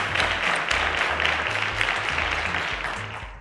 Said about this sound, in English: Ladies and gentlemen, a round of applause to Angelica